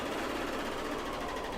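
A serger runs in one steady, continuous stitching drone as it sews a seam on underwear, loud and alone with no talk.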